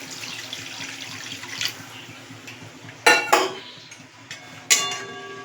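Water poured into a simmering poppy seed curry for an eggplant dish, with soft bubbling underneath and a few sharp metallic clinks of a utensil against the pan, close by.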